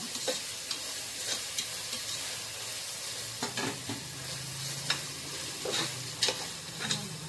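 Tomatoes sauté in a pan for vegetable biryani, a steady sizzle under scattered scrapes and knocks of a spoon stirring them, close and fairly quiet with no voices.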